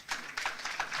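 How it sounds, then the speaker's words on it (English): Audience clapping at a Kenyan government cyber webinar event, faint and somewhat distant, a short run of soft claps in loose rhythm with no talking. "You may clap for me again."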